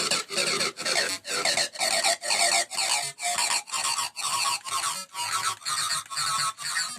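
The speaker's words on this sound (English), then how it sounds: "It's basically an acid sound, which sounds like this by its own." A squealing, resonant acid synth line called the tweak pulses alone in about a dozen evenly spaced, buzzy rasping bursts with a steady rhythm, bright and gritty, no voices.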